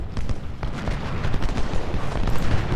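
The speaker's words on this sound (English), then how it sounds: "So we're getting a nice volley of fire here." Sustained musket volleys from Civil War infantry lines in Ultimate General: Civil War, a steady rumbling crackle of overlapping gunfire with scattered sharper cracks, fairly distant and unbroken throughout.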